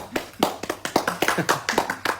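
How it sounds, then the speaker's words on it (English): An audience at a sports talk event applauds a departing guest, with uneven, fairly close hand claps coming in quick irregular bursts, some of them sharper taps, over about two seconds. "The boys have not quite stood up, but they're clapping"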